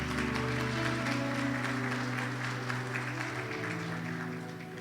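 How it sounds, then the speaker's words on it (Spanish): A church congregation applauds the Lord during a Spanish-language service. The clapping is soft and diffuse, set against sustained keyboard or organ tones, and it fades slightly toward the end. "Aplauda así al Señor."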